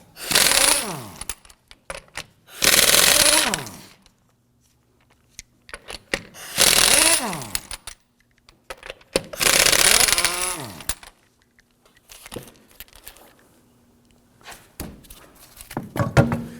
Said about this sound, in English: Using a 19mm socket, we're going to loosen and remove the lug nuts.